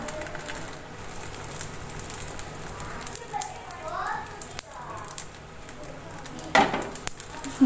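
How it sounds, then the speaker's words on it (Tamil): Rolled parotta dough sizzles steadily on a hot tawa over a medium flame, a continuous close frying hiss with occasional utensil clinks, running under a person talking. "ஸோ நம்ம திரட்டி வச்ச பரோட்டாவை இங்கே சேர்த்துடலாம். ஸோ நீங்கள் சுடும்போது அது மீடியம் ஃப்ளேமில் வச்சுக்கோங்க."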